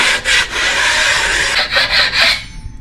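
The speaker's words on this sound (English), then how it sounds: "I'm just going to give it a quick scrape now." A steel trowel scrapes a fresh plaster coat on a wall that is being repaired after water damage from a burst pipe. The strokes are steady, close and harsh, with brief pauses between passes and no talk.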